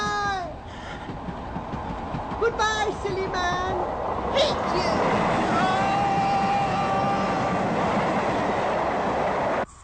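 A train rushes past in a British TV crime drama, a loud sustained rumble with clattering and high squeals over several seconds, under tense speech between two people.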